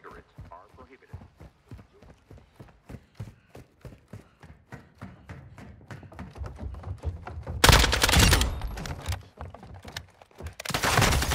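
Rapid bursts of gunfire in the Call of Duty Modern Warfare II Warzone video game, a dense run of sharp shots building to a loud blast of noise near the end, with a voice talking over it.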